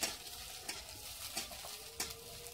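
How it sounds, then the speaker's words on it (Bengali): Onions frying in oil in a pan for a spinach-stem chorchori, with a steady sizzle broken by a few sharp scraping stir strokes, close and moderately loud, no voices. "পেঁয়াজটা একটু ভাজা ভাজা হবে"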